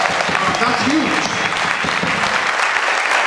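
An audience at the Amor for Alex Nieto memorial concert at Brava claps and cheers in a dense, sustained burst of applause filling the room, staying loud throughout.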